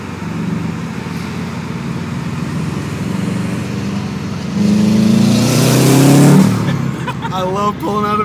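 A Subaru on the road: steady road and engine noise, then the engine revs up loudly, pitch rising before easing off, with voices speaking briefly near the end.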